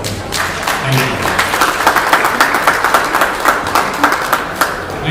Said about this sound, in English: Mushmi, Madhu, please give another round of applause.